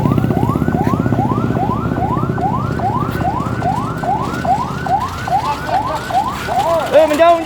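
An ambulance siren wails in a steady, repeating rising sweep, loud and close, cycling about every half second with low traffic rumble underneath before the pattern breaks up near the end.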